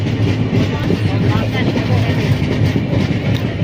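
A train on its way to Mumbai rolls through hilly country, producing a continuous close rumble with rhythmic wheel clatter, while a voice talks over it.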